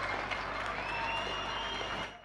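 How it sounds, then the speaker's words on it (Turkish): Faint, distant applause drifts from residents on their balconies for health workers, a soft continuous patter of many hands that fades near the end. "Sağlık çalışanlarımız balkonlarda dakikalarca alkışlandı."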